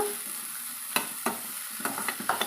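A ridge gourd milk curry stirred in a pan, with sharp spoon scrapes landing irregularly over a soft background sizzle, close and fairly loud with no voices.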